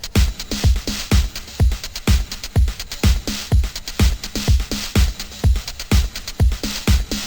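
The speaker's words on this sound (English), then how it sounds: "So all together, the drums sound like this." Full lo-fi drum loop built in FL Studio: steady punchy kicks, crisp snares and constant hissy hi-hats in a fast, driving repeating groove, loud and dense with no voice.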